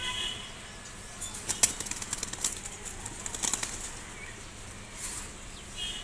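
A Giribaz pigeon takes flight, and its wings flap in short, crisp bursts of fluttering. The sound is faint and close, broken by quiet gaps, with another flurry near the end.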